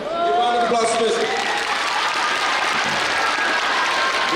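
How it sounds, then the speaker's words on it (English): Audience applause fills a performing arts center after a speaker's introduction, with dense steady clapping for the whole stretch, loud and close, as a voice briefly speaks over the start. "Give a round of applause to Spencer."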